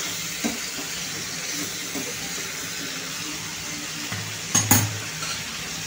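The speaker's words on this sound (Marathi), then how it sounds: "मसाले पण फ्लॉवर सोबत परतून घ्यायचे आहेत व्यवस्थितपणे, म्हणजे मसालेही तेलावरती भाजले जातील" Cauliflower and spices sauté in oil with a low continuous sizzle, faint stirring strokes, and a brief louder clatter of a utensil against the pan toward the end.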